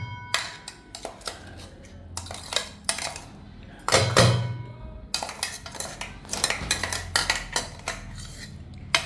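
A spoon scrapes and clinks against steel dishes while wood apple curd chutney is moved into another bowl, making bursts of bright metallic taps and scrapes separated by short quiet pauses.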